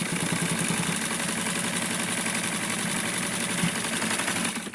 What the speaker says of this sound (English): I'm going to go ahead and sew the casing into it.